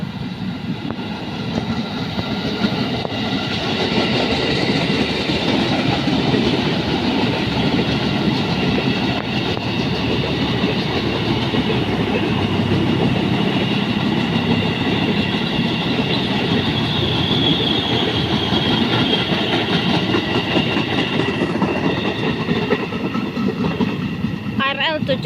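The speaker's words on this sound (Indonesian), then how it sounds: "KRL tujuan Angke." A KRL electric commuter train heading to Angke passes at night at Tambun, West Java, with a loud, continuous, steady rumble and rhythmic wheel clatter on the rails throughout.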